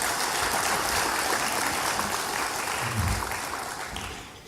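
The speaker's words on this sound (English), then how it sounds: "I want you to give him a round of applause," An audience at a Trinidad and Tobago ministry certificate ceremony applauds the Honorable Jairam Simangal, a broad steady wash of clapping that fades slightly toward the end.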